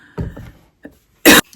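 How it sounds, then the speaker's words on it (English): A woman coughs a few times in close succession, two muffled coughs, a faint one and then a sharp, loud burst near the end, heard up close. "I'm coughing up my lungs."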